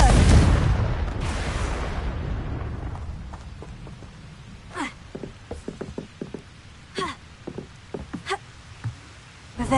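A Confringo blasting spell exploding in Hogwarts Legacy, a loud booming burst at the start that rolls away, followed by scattered sharp knocks and cracks of debris and footsteps fading off.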